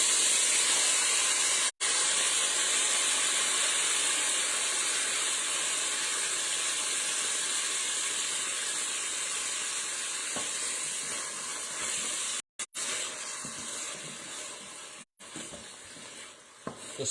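Tomato goes into a hot pan for palak paneer, giving a strong, steady sizzle and hiss of frying that fades slightly over time, with a few faint stirring clinks.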